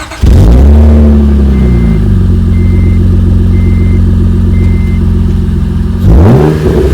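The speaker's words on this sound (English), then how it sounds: "The owner put on some modified exhaust on it, which makes it sound great." An Acura TL fitted with an aftermarket modified exhaust revs up loud and close, a deep throaty engine roar that climbs and holds for several seconds, drops, then blips again at the end.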